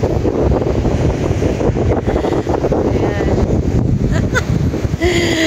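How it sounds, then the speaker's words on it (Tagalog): Sea waves surge and splash on a sandy shore under heavy wind buffeting the microphone, a loud continuous roar, with a brief spoken word near the end. "yung naririnig mo yung hampas ng tubig, yung dagat"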